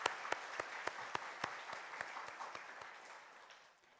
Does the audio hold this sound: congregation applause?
yes